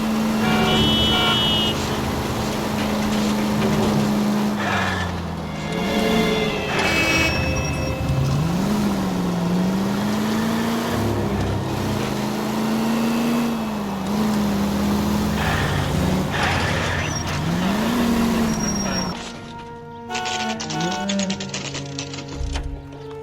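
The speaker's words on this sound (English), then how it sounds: "That's the car, Cole. Just pulling out of the drive." A car pulls out of a driveway in a radio drama, its engine holding a steady drone that rises and falls as it moves off, loud and close throughout, with a sharp cut near the end leaving quieter background.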